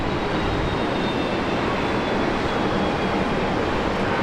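A Korean Air airliner at Brisbane Airport gives a loud, steady, broadband engine roar that holds constant without a break, with no voices on top of it.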